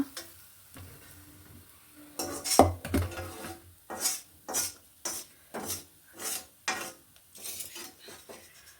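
Tempering is stirred into a crunchy avarebele (hyacinth bean) snack mixture, giving repeated rhythmic scraping and rattling of a spoon against a metal bowl, about a dozen steady strokes up close with no talking.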